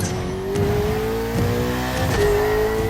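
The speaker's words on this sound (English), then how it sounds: "Ferrari 488" A Ferrari 488 engine revs hard and close, its pitch climbing, dropping briefly, then climbing again in a loud, snarling burst with faint tire noise underneath.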